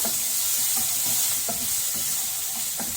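Shawarma filling fries in a pan and is stirred with a wooden spoon, giving a steady loud sizzle with soft rhythmic scraping strokes roughly every half second.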